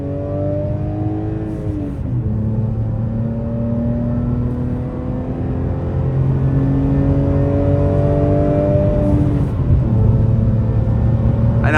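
A BMW E46 M3 engine revs loud and close from inside the car during a drive, rising and falling through gear changes with a steady throaty drone.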